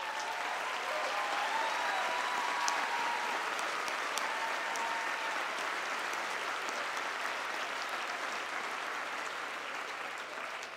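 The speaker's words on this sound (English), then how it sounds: "Would all members of Delta Epsilon Sigma please stand for a special round of applause?" Commencement audience at Marymount's 2012 graduation giving a round of applause for Delta Epsilon Sigma honor society members, a broad, even wash of many hands clapping in a large hall, sustained and moderately distant.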